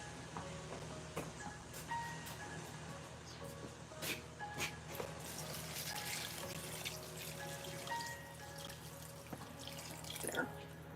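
Tap water runs into a bucket in an art studio, a faint continuous splashing stream with scattered drips and clinks, heard from a short distance with no talking.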